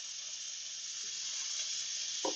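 Steady loud hiss of steam venting from an Instant Pot pressure cooker during a pressure release while cooking sour cream chicken, continuous and close with no talk, a faint clink near the end.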